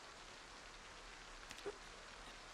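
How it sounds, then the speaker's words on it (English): Rain in the video game Project Zomboid, a soft, steady patter of falling rain, faint and continuous, with one brief louder tap near the middle. "Falling asleep with your window opening, listening to the rain."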